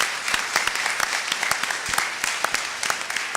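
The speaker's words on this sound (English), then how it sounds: "we owe him a debt of gratitude and a round of applause for our Congressman Jared Huffman" Sustained applause from a forum audience in honor of Congressman Jared Huffman at a gathering on protecting national marine sanctuaries: steady, dense clapping with sharp individual claps standing out throughout.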